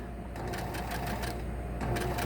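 A sewing machine runs steadily while back stitching to overlap a seam, a continuous mechanical whir with a rapid repetitive stitching rhythm, close and moderately loud throughout.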